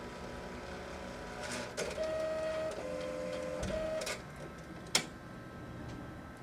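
A Viper DTG printer runs its power cleaning cycle, a steady mechanical hum with a sustained tone stepping between pitches, soft ticks and one sharp click near the end.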